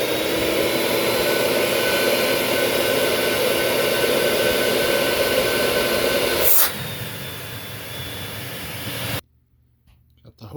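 A Vax 221 vacuum cleaner running steadily with a loud, close, broadband whooshing roar, its airflow tone shifting partway through before the motor cuts off near the end.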